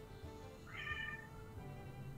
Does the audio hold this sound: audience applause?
no